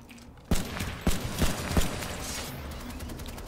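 Several sharp gunshots from a battle rifle in a video game, four distinct reports spaced roughly evenly, loud and close against a steady background hum.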